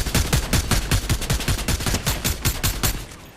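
Rapid automatic gunfire from a video game, a close, loud string of evenly spaced shots filling the whole burst with no talking.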